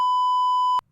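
A single loud, steady censor bleep covers a swear word in a NASCAR driver's remark, holding unbroken for most of a second before cutting off sharply into near silence.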